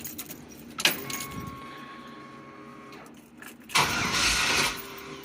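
A Jeep YJ engine with a fuel leak cranks on the starter after a key jangles and turns, giving a short sputtering burst of churning and whirring near the end, close and fairly loud.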